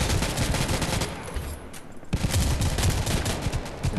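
Gunfire rips through Modern Strike Online, a mobile shooter, in loud, close, rapid bursts with a brief lull near the middle before the shooting resumes densely.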